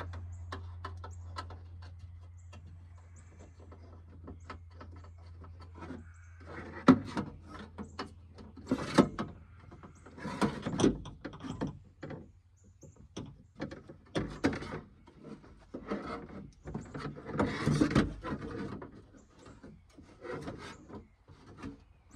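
Power window motor for a 2000 Dodge Durango being fitted into the door, heard as close, irregular scraping, rubbing and knocking of metal and plastic parts with a steady low hum under the first few seconds.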